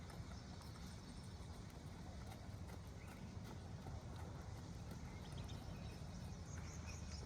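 A horse's hooves clip-clop steadily as it trots in circles on a lunge line during training, moderately near, with a trainer's voice calling encouragement in the background.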